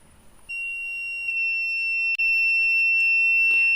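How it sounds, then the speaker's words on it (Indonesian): An electronic buzzer in a basic water level detector circuit sounds once the water reaches its limit, giving a steady, loud, continuous high-pitched tone. It starts about half a second in, drops out briefly, then resumes with no voices. "Ketika ketinggian air sudah mencapai batasnya, maka buzzer dan LED akan menyala."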